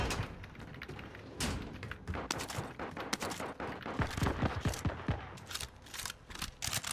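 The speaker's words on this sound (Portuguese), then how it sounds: "Estão atirando aqui!" Rapid gunfire from a Call of Duty: Modern Warfare match, dense bursts of shots and automatic fire crackling continuously, loud and close, with sharper single reports standing out toward the end.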